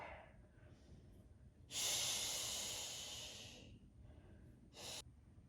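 Deep, loud breaths during a yoga stretch: a long hissing inhale-exhale of about two seconds, then a shorter sharp breath a moment later, close and alone with no talk.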